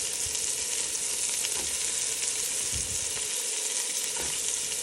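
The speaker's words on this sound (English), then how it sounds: "So these have been frying here for about a couple of minutes" Steady, dense sizzling of meatballs for caldo de albóndigas frying in a hot pan, loud and continuous with a few soft clicks and shifts, no voices.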